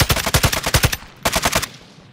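Rapid automatic gunfire in Call of Duty: Modern Warfare II: two loud close bursts of quick shots separated by a brief pause, with no talk.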